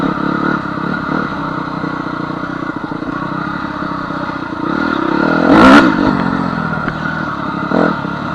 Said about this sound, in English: revving the piss out of the quad, which is what it should do